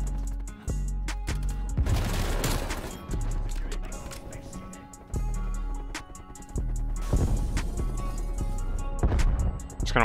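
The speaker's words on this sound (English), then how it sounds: "They're just shooting through the wall" Gunfire in the video game Call of Duty Cold War, shots punched through a wall with repeated sharp bursts and crashing impacts over a steady game-ambience bed, loud and close.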